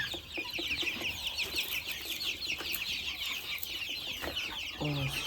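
Farmyard chickens and a big mixed-breed rooster cluck and chirp in a busy, continuous chorus, with a short low call near the end.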